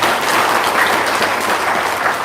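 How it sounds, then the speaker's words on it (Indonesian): Loud, dense applause from an audience at a testimonial seminar, a steady wash of many clapping hands sustained evenly throughout. "Ya, tepuk tangan dong."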